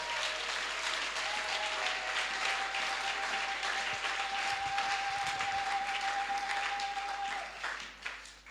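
Church congregation applauding and acclaiming the Lord, a continuous dense wash of clapping with a faint sustained tone running through it before fading at the end.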